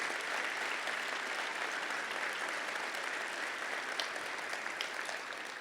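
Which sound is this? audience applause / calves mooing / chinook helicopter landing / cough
audience applause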